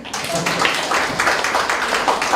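An audience at a lecture on low birth rates gives scattered applause, a moderate patter of hand claps that stays steady throughout with a faint murmur beneath.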